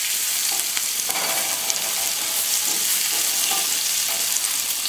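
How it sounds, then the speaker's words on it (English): Butter and garlic sizzling in a pan, a bright, steady crackling hiss that fills the whole stretch, with occasional light clicks of a utensil stirring, close and with no voices. "And now into the pan we put the butter as well as the garlic."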